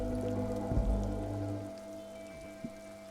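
Steady rain falling in the video game Disco Elysium, a soft even patter under a low sustained tonal backdrop with a few brief thumps, and no voices.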